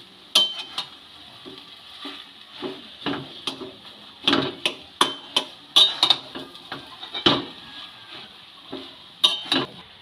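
Garam masala is stirred into a fish and potato mixture for cutlets, a spoon scraping and knocking against the pan in irregular, sharp clicks and scrapes, close and moderately loud.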